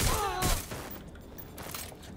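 Gunfire in Watch Dogs: Legion, a loud cluster of shots at the start fading into quieter rumbling and mechanical clatter, with a few softer reports later.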